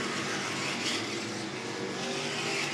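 Modified race cars roar around an oval track in a feature race, a dense, continuous engine drone from the pack at a moderate distance with no clear pass-bys.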